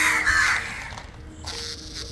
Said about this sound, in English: We are surrounded by a murder of crows.